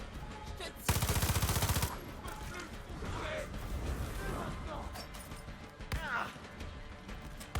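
Rapid automatic gunfire from the video game Far Cry 6, a loud burst lasting about a second, followed by game ambience and more scattered clatter.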